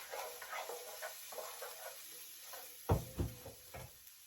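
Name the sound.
shallot sizzling in a pan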